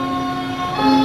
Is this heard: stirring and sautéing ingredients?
no